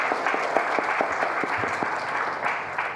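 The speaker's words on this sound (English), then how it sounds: "A round of applause." An audience applauds at a scientific workshop session on protein and calorie restriction, a steady wash of clapping with a few distinct near claps, even in loudness throughout.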